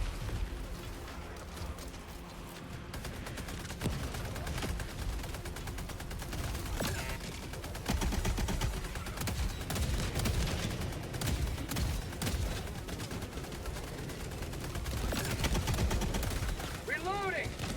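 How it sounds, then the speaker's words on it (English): Rapid automatic gunfire from a deployed sentry turret in the video game Helldivers, dense continuous bursts mixed with other battle noise and voices over nearly the whole stretch. "Calling down a sentry."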